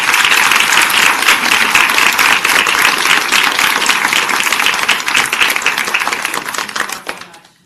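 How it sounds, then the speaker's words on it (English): An audience at a women-in-sports event gives a loud round of applause, dense sustained clapping from many hands that holds steady, then thins and fades out at the end. "Okay, another round of applause."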